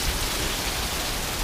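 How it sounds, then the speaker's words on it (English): Rainstorm with heavy rain falling in a steady, dense hiss, close and continuous with no breaks or thunder. "What if it just started like this with a rainstorm?"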